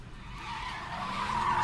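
A Ford police car in a video game skids with a rising, sustained tire squeal that grows louder toward the end, heard alone without talk.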